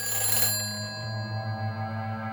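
An old-fashioned telephone rings in the Silent Hill 4 video game, a sustained metallic bell tone with a loud opening burst that settles into a steady ringing hum alongside the game's ambient sound, no talking.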